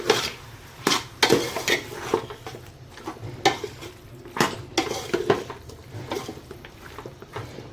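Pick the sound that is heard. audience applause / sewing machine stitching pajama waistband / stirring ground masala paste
stirring ground masala paste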